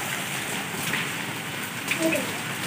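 Steady rain falls outdoors on an evening, a continuous even hiss of drops at a constant level, with a few faint splashes standing out briefly.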